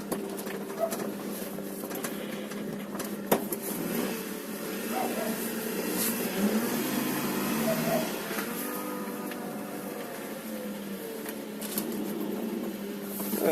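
An old car's engine idles and runs steadily in reverse, a continuous broadband rumble with faint clicks and shifts but no distinct revving.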